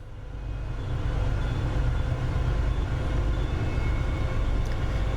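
HSP46 diesel locomotive throttled up to notch 8 in the Train Sim World 5 video game, on an MBTA commuter route, a heavy, steady, loud engine drone building in the first second and then holding constant.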